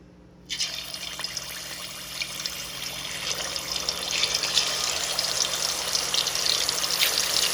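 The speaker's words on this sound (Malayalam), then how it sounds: "നല്ല ചീനച്ചട്ടി ചൂടായി വരുമ്പം" Coconut oil is poured into a heated thick-bottomed cheenachatti for Kerala-style quail fry. A short silence gives way to a steady close trickle that slowly swells louder.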